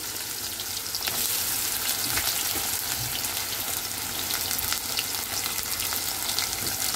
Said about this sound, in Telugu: ఇది బ్రౌన్ కలర్ వచ్చేదాకా ఫ్రై చేసుకుందాం.